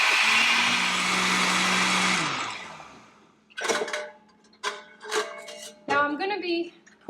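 A food processor whirs loudly for about two seconds as it grinds garlic, basil and salt, then winds down and stops; faint talk follows in the quieter remainder.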